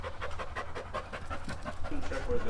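A dog pants steadily and close by, quick rhythmic breaths repeating through the whole stretch, with a low rumble of background noise in an open garage setting.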